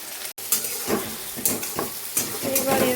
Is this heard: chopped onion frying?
yes